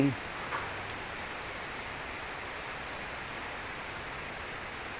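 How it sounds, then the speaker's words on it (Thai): Steady rain falls softly in Khon Kaen, Thailand, a constant hiss of drops with a few faint taps, quiet and unbroken throughout. "ฝนตกลงมานะ"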